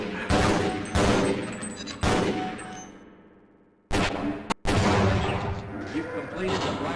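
Bursts of explosions and gunfire in the video game Half-Life: Blue Shift, several loud sharp blasts with ringing metallic tails and one quiet decaying gap between them.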